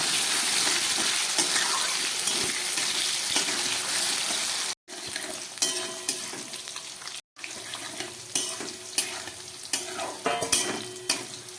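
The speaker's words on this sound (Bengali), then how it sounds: "এবার খুব ভালো করে আলুটাকে আমি ছাকা তেলে ভেজে নেব।" Potato pieces deep fry in a pan of hot oil with a loud, continuous crackling sizzle, broken by two sudden short silences, then resuming with scattered pops and bubbling.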